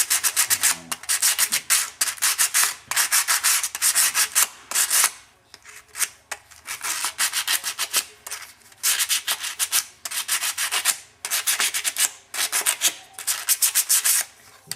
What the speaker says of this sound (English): smoothing out or sanding out the larger scratches that you just made